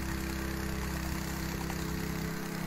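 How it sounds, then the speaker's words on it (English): A high-RPM power trowel finishes a freshly poured concrete floor outdoors in the sun, giving a steady, loud engine drone with a low hum that runs unbroken throughout, with no talking. "that makes finishing a little easier when you have a higher RPM power trowel like that."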